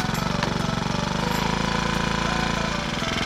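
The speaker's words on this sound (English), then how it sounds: "the first thing I'm going to do is start my motor," A 49cc four-stroke motorized bicycle engine runs at a fast, even idle, its rapid pulsing chug steady, loud and close throughout, with no talk over it.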